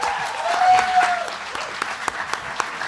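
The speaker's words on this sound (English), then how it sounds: "some round of applause" A student election question-time audience gives a short round of applause, a burst of clapping that swells then thins out into scattered claps.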